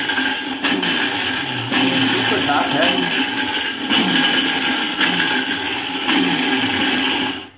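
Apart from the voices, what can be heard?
blender pulsing, grinding acorns for acorn coffee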